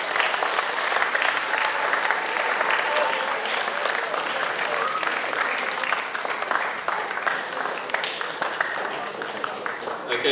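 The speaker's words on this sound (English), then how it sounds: "Please give these young men a round of applause." A crowd at a school prizegiving ceremony applauds steadily, with dense clapping that holds at an even level from start to finish.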